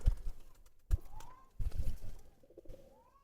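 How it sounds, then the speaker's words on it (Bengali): A pigeon held in the hand coos in soft, low bursts, several short rumbling calls separated by pauses, close and fairly quiet with light handling noise between. "এইখানে একটা কবুতর আছে"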